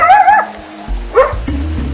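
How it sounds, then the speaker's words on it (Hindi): A coyote gives its yip-yell call, a few short yips and barks rising into a higher wavering cry, close and fairly loud, with low rumbling noise in the background. "इनकी इस धीमी आवाज को कहा जाता है यिप यैल। भौंकने की 3 छोटी आवाजें,"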